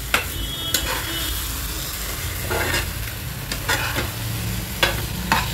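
Eggplant bharta stir-fried in a pan: a continuous loud sizzle broken by repeated spatula scrapes and clicks in an uneven rhythm, close and with no talking.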